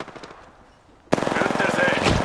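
Rapid automatic gunfire bursts out loud and close in an Apex Legends match after a quieter stretch, sustained rattling fire continuing to the end.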